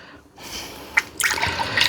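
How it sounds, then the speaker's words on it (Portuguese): Chicken boiling in a pot of water on the stove, with bubbling and a sharp spattering burst, close and fairly loud, with no voices. "Ô franguinho demorado, viu? Tá fervendo ali."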